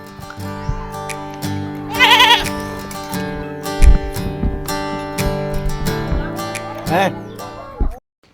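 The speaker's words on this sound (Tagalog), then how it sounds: "Itong kambing nga gusto yata makisalo pa." A goat bleats near a sea wall while people eat and talk, its calls rising over a dense layer of voices and background music.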